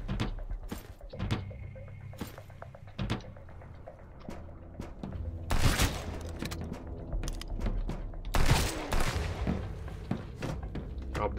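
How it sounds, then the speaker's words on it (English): Machine gun fire in the survival video game Sunkenland comes as sharp, rapid bursts of shots and impacts at varying loudness, mixed with thumps and clatter across the stretch. "There is definitely one with machine gun."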